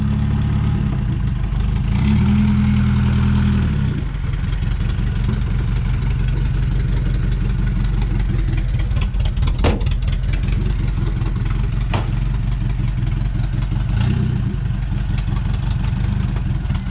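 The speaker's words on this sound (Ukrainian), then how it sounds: "Реально мотор хорошо робить." A VAZ-2103 car engine idles steadily at close range, a low constant rumble with slight surges in pitch, no voices over it.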